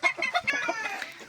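Decorative ornamental chickens cluck and cackle in a busy run of overlapping calls, fairly close and clear, with no voices.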